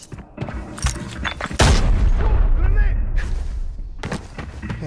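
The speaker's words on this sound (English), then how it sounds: "Grenade!" A grenade detonates in the shooter game Arena Breakout, one sharp, loud blast midway that rolls into a long rumbling tail, preceded by scattered thumps and gunfire-like cracks, with a voice talking over parts of it.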